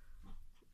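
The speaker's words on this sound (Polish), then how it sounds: "Dwa świniaki." Two small piglets, a brief, faint snuffling grunt with no talk over it.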